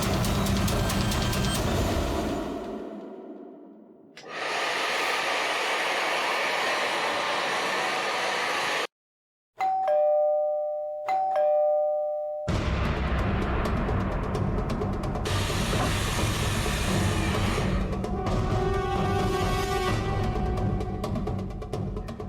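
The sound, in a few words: doorbell ringing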